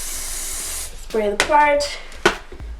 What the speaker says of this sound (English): Take some hairspray, spray the part